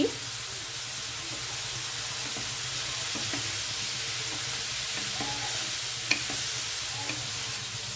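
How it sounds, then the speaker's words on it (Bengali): Prawns fry in a pan over a low flame for a Bengali prawn pulao, turned to cook on both sides. A continuous soft sizzle is broken by a few faint clicks and light stirring. "ভালোভাবে চিংড়ি মাছটা দুটো সাইডই ভেজে নিচ্ছি।"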